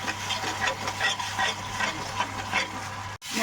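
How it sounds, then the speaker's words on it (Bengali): Masala with soy sauce and tomato sauce fries and gets stirred in a pan, making a steady, close sizzle and scraping. The sizzle cuts out briefly near the end and then resumes. "দিয়ে মশলাটাকে আবার ভালো করে সাঁতলাবো।"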